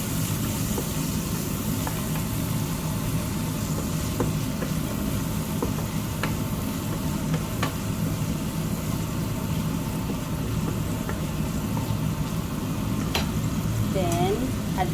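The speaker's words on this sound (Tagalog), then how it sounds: "Kailangan lutuin muna natin yung ating shrimp." Shrimp fry in a pan with a constant close sizzle and bubbling hiss, occasional light clinks of stirring, and a voice faintly present underneath.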